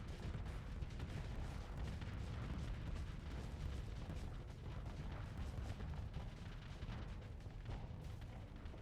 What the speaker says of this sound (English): smack out a whole heap of more missiles here